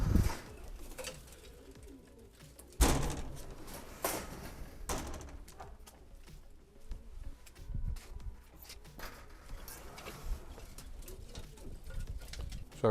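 Racing pigeons cooing and shuffling inside a loft compartment during a hot race stage, soft throaty calls repeating steadily at close range with occasional thumps and door-like knocks, no talk.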